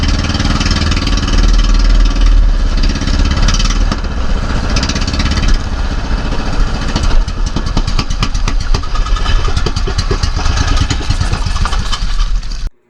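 The motor of a fishing boat hauling a net for redbelly yellowtail fusilier runs loud and close, first a steady drone, then a faster chugging pulse for most of the clip before cutting off abruptly at the end.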